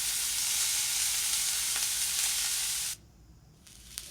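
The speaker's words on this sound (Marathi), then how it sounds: "सोनेरी रंगावर आपल्याला लसूण परतून घ्यायचा आहे" Ten to twelve crushed garlic cloves sautéing over low heat in a pan for green moong dal amti, with a loud, close, continuous sizzle that cuts off abruptly near the end, leaving a faint hiss and a small clink.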